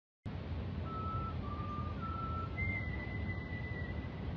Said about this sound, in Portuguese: produzem um assobio semelhante a sons de pássaro